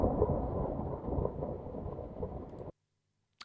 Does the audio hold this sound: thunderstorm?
yes